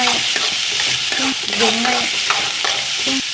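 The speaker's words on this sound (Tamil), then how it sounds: "பீன்ஸை தனியாக வதக்கி வச்சுருக்கேன். அதையும் போட்டுக்கலாம்." Beans sauté in a pan for carrot poriyal, with a loud, close sizzle of frying and the repeated scrape of a spatula stirring, heard alone without any voices.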